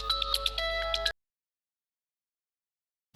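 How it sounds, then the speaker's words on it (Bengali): An incoming call sets off a phone ringtone that plays a short electronic melody for about a second and then cuts off, leaving near silence. "কি ব্যাপার, এই সময় মৌ ফোন দিল?"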